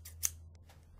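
A pair of red scissors snips and clicks up close, one sharp cut followed by a few lighter metallic clicks over a low steady hum.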